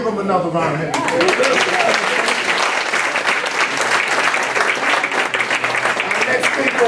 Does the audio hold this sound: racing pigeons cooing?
no